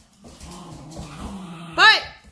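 An old dog growls low and steady at a puppy indoors, then gives a sharp higher yelp near the end, with a person talking close by.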